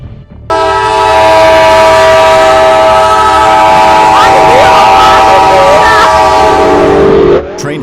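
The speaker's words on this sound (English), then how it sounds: "Train hits semi-truck in Haverstraw, New York." A train horn blares loudly and continuously as a train closes on a semi-truck at a crossing in Haverstraw, New York, with rumbling rail noise underneath before it cuts off.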